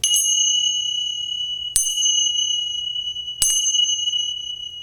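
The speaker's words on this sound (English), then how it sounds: "We close our practice the way we began, with the sound of 3 chimes." Three bright chimes ring one after another about two seconds apart to close a yoga practice, each a clear metallic tone that sustains and fades in a quiet room with no talking.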